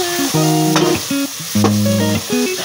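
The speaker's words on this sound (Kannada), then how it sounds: "ಸ್ವಲ್ಪ ಅರಿಶಿನ ಪುಡಿ ಹಾಕ್ಕೊಂಡು ಹೀಗೆ ಕಮ್ಮಿ ಉರಿನಲ್ಲಿ ನೋಡಿ ಈ ಥರ ಫ್ರೈ ಮಾಡ್ಕೊಳ್ಳಿ." Spices with turmeric powder fry over a low flame for fish sambar, a soft continuous sizzle sitting beneath loud background music.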